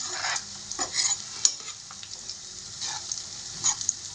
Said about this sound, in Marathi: थोडीशी कढईमध्ये तेल टाकून घेतलेलं आहे मिरची अद्रक लसूण